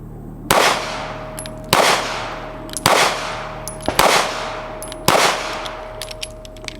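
A 9mm pistol firing five rounds of 124 grain ammunition at an outdoor range: five loud, close, sharp reports about a second apart, each with a short ringing decay and no talking.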